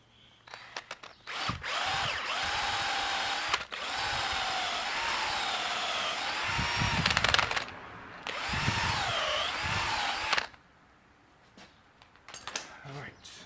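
Dull power drill boring in long, steady whining runs with a straining pitch that sags and rises under load, close and fairly loud, stopping twice with short pauses and rattles between.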